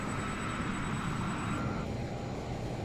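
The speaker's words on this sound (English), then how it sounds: "You can hear the engines kicking on there." Learjet 35A jet engines in Microsoft Flight Simulator 2024 spool up with a loud, steady roar and a thin high whine, the tone shifting slightly partway through.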